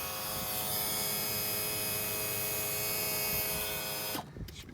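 Electric power-trim motor on a Ranger VX1788 boat's outboard raises the motor, a steady whining electric hum held for about four seconds before cutting off abruptly.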